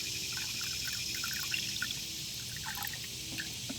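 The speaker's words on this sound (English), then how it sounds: "we got our sugar syrup right here. And I'm going to fill it up, 1 gallon." A gallon of sugar syrup is poured into an open bee feeder, making a soft, continuous trickle and pour that runs alone for a few seconds at a faint, even level.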